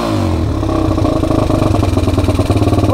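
An ATV or dirt bike engine that has been running rough idles close and loud, with a fast, slightly uneven pulsing throb that holds steady throughout.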